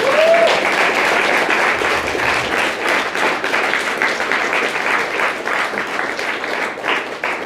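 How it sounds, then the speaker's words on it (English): A seminar audience gives sustained applause after a speech. The dense, even clapping fills the room continuously from start to finish at a strong level, with no talking over it. "Let's give Jason a round of applause."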